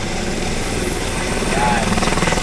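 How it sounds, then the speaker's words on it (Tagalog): A large drone descends and lands at a drone terminal garage, its rotors making a loud, steady helicopter-like whirring drone with rhythmic pulsing that grows slightly stronger toward the end. "Ayan mga tol, kung makikita nyo, may bumababa na isang drone."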